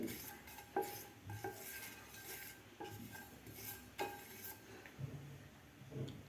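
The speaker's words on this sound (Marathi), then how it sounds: "मी पॅन ठेवलेला आहे त्यामध्ये आपल्याला सुरुवातीला खसखस घालून घ्यायची आहे खसखस आपल्याला पंधरा ते वीस सेकंद आपल्याला भाजून घ्यायची आहे" Poppy seeds dry-roast in a pan while a metal spoon scrapes and taps against it in irregular strokes, faint and close, with light clinks and no voices.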